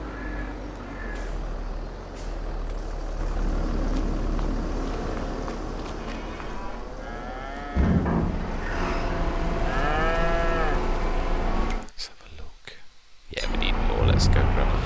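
Cows moo in Farming Simulator 22 on the Adelshoven map: several drawn-out, rising-and-falling moos come in the second half over a constant low machinery rumble and outdoor ambience.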